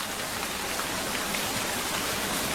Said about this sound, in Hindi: हम वहां छिपकर बारिश रुकने का इंतजार करने लगे